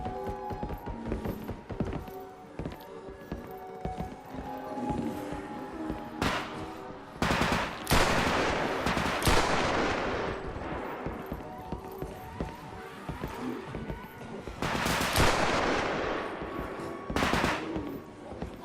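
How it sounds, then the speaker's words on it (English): Gunfire in the first-person shooter game Bodycam, with bursts of sharp shots and rapid volleys that come in clusters over a rattling, busy background of footsteps and movement, loud and close. "Gun's got great stopping power, but that reload speed is rough."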